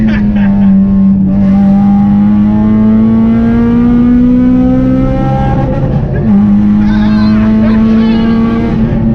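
A loud, sustained straight-piped Honda Civic EP3 Type R engine drone climbing steadily in pitch into VTEC, briefly dipping mid-way, then holding high again, raspy and continuous with no talking.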